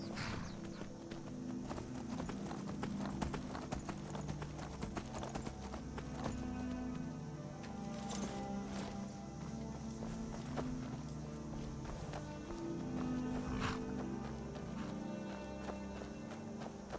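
Horse hooves clip-clopping at a steady rhythm while riding in the video game Skyrim, continuous and close, with game music and ambience underneath.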